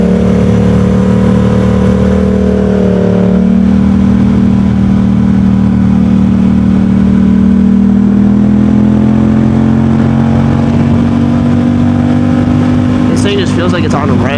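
A Yamaha R7 motorcycle engine hums steadily while riding, a continuous mid-range drone with a slight rise in pitch toward the end, close and loud, with someone talking over it throughout.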